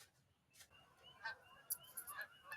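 Birds honk in several short calls scattered over a quiet background, faint and somewhat distant, with no talking.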